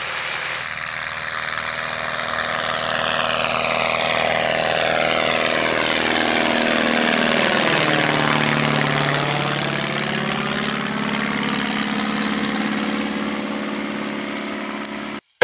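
A 1941 Taylorcraft BL-65 light airplane drones steadily in flight at dusk, its small propeller engine loud and continuous, with the pitch sweeping down and back up as if the plane passes close by.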